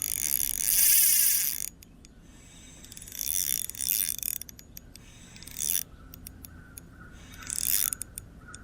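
Fishing reel drag paying out line as a smallmouth bass pulls on the bank, bursts of rapid ratcheting clicks coming in several separate runs between quieter gaps, close and fairly loud.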